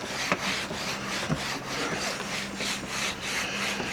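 A clay bar glides by hand across the painted body of a 1978 LTD wagon, giving a soft, rhythmic scuffing rub repeated in quick even strokes, close and fairly quiet.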